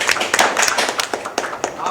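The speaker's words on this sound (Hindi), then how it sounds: "अब मैं चाहता हूँ इसके लिए ताली आप बजाएं प्लीज़।" An audience at a Hindi film press conference claps in brisk, uneven bursts, close and fairly loud, with voices mixed into the applause.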